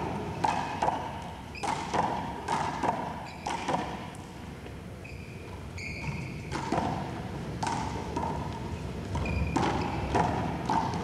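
A big-ball one-wall handball doubles rally from 1987, with repeated hard slaps of the ball against the wall and floor in a quick irregular rhythm, heard in a reverberant space amid crowd murmur.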